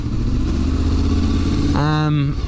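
A Honda VFR800 motorcycle with a Black Widow aftermarket exhaust idles with a deep, steady rumble, then a brief rising rev near the end.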